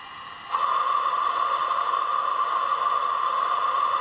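A steady hissing, whooshing electronic sound switches on abruptly and continues at an even level, a model locomotive's preheater sound effect running on an H0 model railway.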